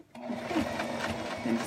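A sewing machine starts up and runs a short, steady burst of stitching through fabric, close and fairly quiet, including a brief back stitch.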